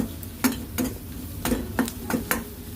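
A spoon stirs okra coated with sambar powder in a pan while making Madras-style sambar, striking the metal in about seven crisp, irregular clinks over a faint background sizzle.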